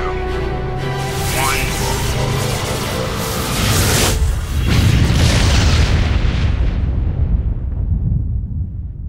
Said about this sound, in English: Hitting the relay in 3, 2,